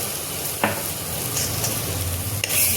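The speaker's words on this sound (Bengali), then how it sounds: "যতক্ষণ না মশলাটা রান্না যাচ্ছে ততক্ষণ ভালোভাবে ভাজবো।" Fish frying in a pan with turmeric and Kashmiri chili powder, giving a close, steady sizzle broken by a couple of sharp utensil clicks.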